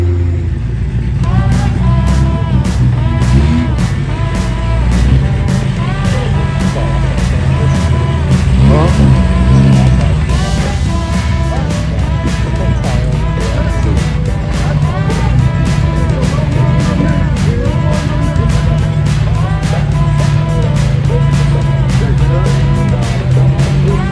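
A Toyota off-road vehicle's engine revs hard and steadily on a trail, loud and close, with a continuous rough drone and rapid rhythmic ticking throughout.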